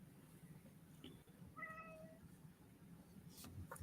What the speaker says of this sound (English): Jeremy loves the cat